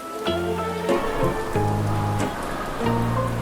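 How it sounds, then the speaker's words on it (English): Sudden rain in a Peppa Pig cartoon: a steady hiss of falling rain mixed under sustained musical tones, continuous and fairly loud throughout, with no talking. "A sudden rain makes Peppa grab her colorful umbrella."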